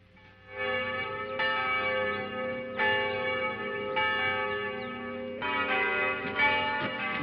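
New church bells ringing in a peal, loud and resonant, with fresh strikes landing every second or so over a sustained ringing tone, no talk.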